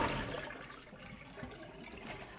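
Water pours and splashes out of a pot of potatoes as they are drained, a brief, soft, continuous rushing sound with no voices.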